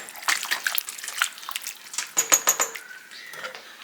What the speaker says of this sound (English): I'm going to give this all a good stir.